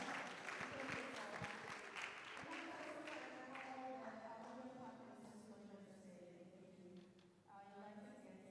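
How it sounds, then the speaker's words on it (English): Applause for the organising committee at the official launch of the 27th Ghana Universities Sports Association Games; a crowd claps and cheers loudly, fading gradually while voices talk over it. "The committee, please give yourselves a round of applause."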